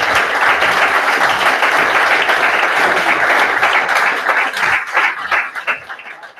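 Hackathon audience claps for prize winners, a steady wash of applause from a room full of people that thins out and fades toward the end.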